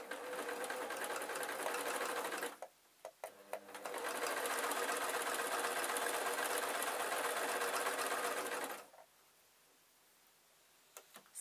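A sewing machine stitching the head of a spider soft toy runs in a fast, steady whir close by, pauses briefly with a few clicks, runs again for several seconds, then stops.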